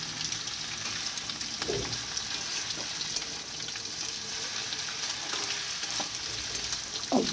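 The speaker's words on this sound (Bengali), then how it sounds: "একদিকে চচ্চড়ি হচ্ছে আর একদিকে মাছ ভাজা হচ্ছে।" Fish frying in a pan on a home stove, giving a steady, close sizzle with occasional soft stirring clicks throughout and no voices.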